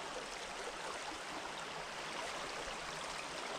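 Shallow winter creek water rushing steadily past, a dense broadband wash with no break or voices, loud and close throughout.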